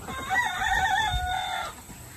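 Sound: chickens clucking while being moved

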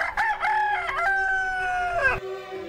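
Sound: black rooster crowing

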